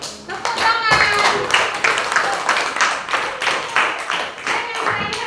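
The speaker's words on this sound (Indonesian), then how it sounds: "Tepuk tangan." Group of students clapping together in a classroom, a steady run of dense overlapping claps that fills the clip, with children's voices mixed in underneath.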